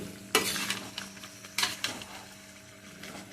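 Ginger, garlic and green chilli paste fries in a pan for chilli chicken, with sharp scraping stirs over a soft, steady sizzle, close and fairly quiet, with no talk.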